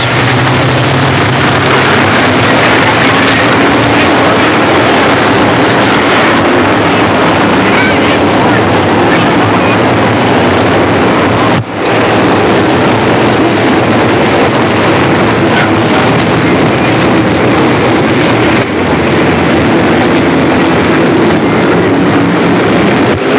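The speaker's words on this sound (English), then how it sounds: "Sherlock, Ricky Thomas on the gas in turn 4, and we're underway" Late model race cars roar around a dirt half-mile track at the 1996 Pittsburgh Super Series feature, a loud continuous engine drone with wind buffeting throughout.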